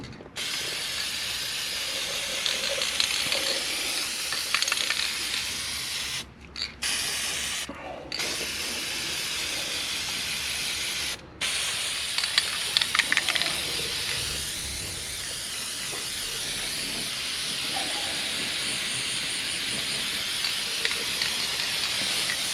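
A spray paint can hisses almost continuously over greasy metal in an enclosed garage, loud and close, with a few brief pauses between long bursts.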